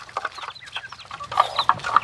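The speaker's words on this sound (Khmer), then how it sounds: "នេះមាន់នៅក្នុងចំការ" Chickens cluck nearby in a loose, irregular series of short calls, several birds overlapping against a quiet background.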